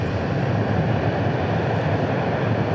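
An airliner roars steadily during takeoff from DFW airport bound for Waco, a broad, constant engine rumble heard from a distance that holds at an even level throughout with no voices.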